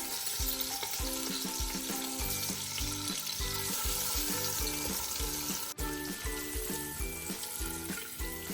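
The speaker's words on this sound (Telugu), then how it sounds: "తర్వాత ఎగ్స్ వేసుకొని ఎగ్స్ ఫ్రై చేసుకుందాం." Eggs frying in a kadai for a bachelor-style egg biryani, a steady sizzle with repeated stirring and scraping strokes and light metallic clinks throughout, fairly close and even in level.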